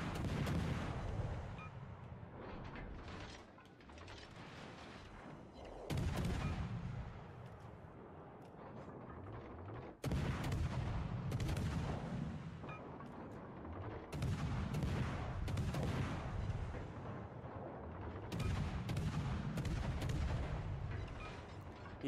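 Ship guns in World of Warships Legends boom in repeated heavy salvos, loud close blasts each trailing into rumbling decay, overlapping in bursts with no talk.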